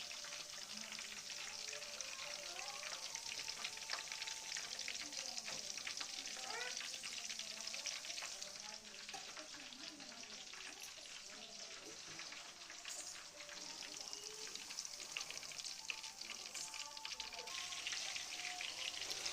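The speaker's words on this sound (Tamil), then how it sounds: "இது நல்லா எண்ணெயில் பொறிஞ்சி வருது இந்த உருண்டைக்கறி" Mutton meatballs deep-frying in hot oil, a dense continuous crackling sizzle close by that holds steady throughout, with no voices.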